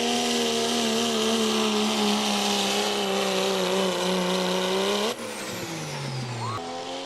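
A pulling truck's engine roars at high, steady revs at a truck and tractor pull, then abruptly drops and shifts pitch as the throttle changes, with no talking over it.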